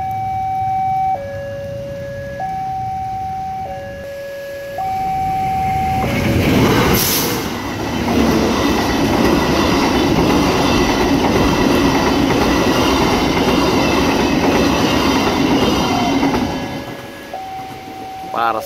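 A parcel train rolls past a railway level crossing. The crossing's stepped two-tone warning bell rings first, then a loud, close roar of wheels and cars takes over for over ten seconds before the bell is heard again.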